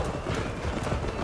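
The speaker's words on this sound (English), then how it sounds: "Your horse is slow, and her rider's drunk!" Horse hooves galloping in the Assassin's Creed Valhalla video game, a quick, loud, rhythmic clip-clop pounding close by under a busy game soundscape.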